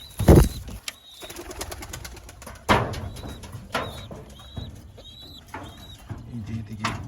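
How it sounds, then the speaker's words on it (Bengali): Pigeons feeding, some of them outside the feeding area, give short repeated calls mixed with sharp knocks and taps from pecking, and a few louder thumps stand out. "সবগুলো কবুতর খাবার খাইতেছে, আর কিছু কিছু কবুতর বাইরে আছে।"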